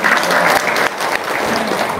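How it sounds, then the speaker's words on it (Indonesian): An audience breaks into dense, sustained applause, many hands clapping together loudly and close for a couple of seconds. "Sip, tepuk tangan dong."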